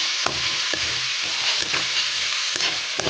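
Tomatoes frying in a pan for upma while being stirred, a steady sizzle with soft scraping strokes of a spoon at regular intervals, close and alone without talk.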